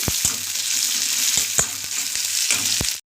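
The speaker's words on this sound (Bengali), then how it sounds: "আগে পেঁয়াজ লঙ্কাটা ওটা ভাজাটা করে নিই ভালো করে ভেজে নিয়েছি" Onions and green chillies fry in a pan with a constant close sizzle, broken by several sharp scraping stirs of a spatula; no speech.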